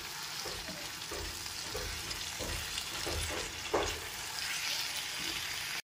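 Fried paneer pieces stirred into a capsicum curry in a pan, giving a steady close sizzle with a few soft spoon scrapes and knocks scattered throughout, no voices.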